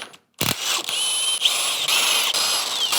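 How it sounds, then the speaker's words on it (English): An impact wrench rattles continuously for a few seconds while removing 13mm timing cover bolts during a 5.3L L83 V8 engine teardown, starting abruptly after a brief silence, close and fairly loud. "I love having this impact. It just makes everything super easy to work on."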